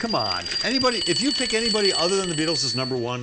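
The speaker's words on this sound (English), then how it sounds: "That's the alarm." A two-minute warning alarm rings as a steady, high-pitched electronic tone for most of the clip, under someone talking loudly.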